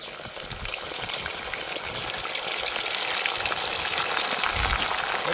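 Meat frying in hot oil, cooked outdoors in a village setting, gives a loud, continuous broadband sizzle that grows slightly stronger toward the end, with no voices.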